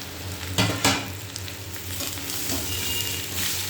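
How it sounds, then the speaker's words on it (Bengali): Boiled soybeans tumble into a hot frying pan with a couple of sharp clattering thumps. A steady, close sizzle follows, with light stirring scrapes throughout. "এবার এই যে সেদ্ধ করে রাখা সয়াবিনগুলো দিয়ে দেবো।"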